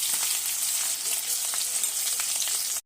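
Ground masala paste for an Afghani egg curry frying in hot oil, a dense continuous close sizzle with faint stirring scrapes underneath, cutting off abruptly at the end.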